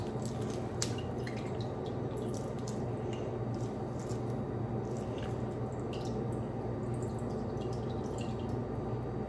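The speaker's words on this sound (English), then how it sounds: "So just continue to strain and mash." Drained crushed pineapple is strained and mashed, making continuous wet squishing and dripping up close, with scattered small liquid splats and clicks over a steady, busy texture and no speech.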